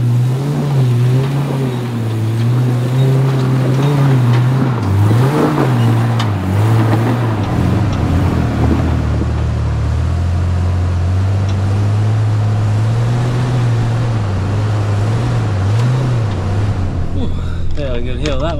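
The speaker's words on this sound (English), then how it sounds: "So capable, that Jeep, and so good at crawling with those treps and reduction gears." A Jeep Rubicon 4WD crawls up a hill off-road, its engine a low, steady drone with rising and falling revs, close and loud, while someone talks over it.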